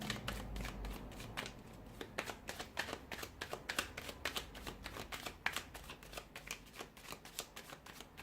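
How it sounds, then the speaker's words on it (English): Tarot cards being shuffled, a dense run of crisp riffling and flicking bursts in quick irregular rhythm, close and fairly soft, with no voices. "we'll give the cards a shuffle and see what's coming in for you"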